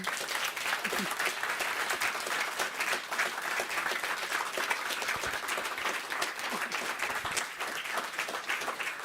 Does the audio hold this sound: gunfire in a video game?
no